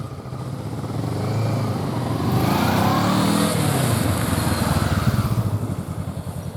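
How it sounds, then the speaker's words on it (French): A motorcycle engine revs and pulls hard uphill, its pitch rising and swelling as it accelerates under load, loud and close throughout. "Objectif, mesurer la lancée de la moto"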